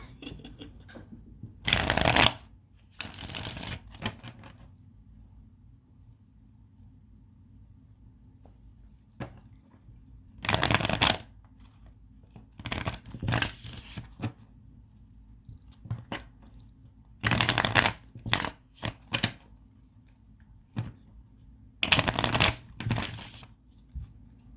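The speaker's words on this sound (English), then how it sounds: "I'm gonna pull some cards from the Thoth tarot deck." A Thoth tarot deck is shuffled in several separate bursts of quick, crisp riffling, each lasting a second or two and separated by quiet pauses, close and clear with no talking.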